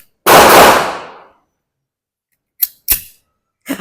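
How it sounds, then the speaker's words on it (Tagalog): Smith & Wesson M&P Bodyguard 380 pistol with Crimson Trace laser: one loud sharp metallic burst with a decaying tail, then three short crisp clacks of the slide being racked, close and without talk. "Pati pagkasa, para laruan lang yung kinakasa ko."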